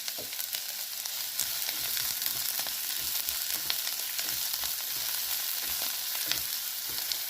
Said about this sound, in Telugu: ఇది వేయించుకోవాలి, మరీ మెత్తగా చేసేయకూడదు